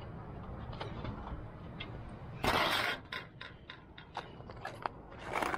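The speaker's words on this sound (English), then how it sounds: "I'm just gonna use our shears, piece of metal," Metal shears cut through a piece of sheet metal in an attic: close, crunching snips, one loud burst then a series of shorter clipped cuts over a faint background hum.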